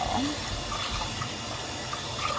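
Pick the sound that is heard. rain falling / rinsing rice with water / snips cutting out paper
rinsing rice with water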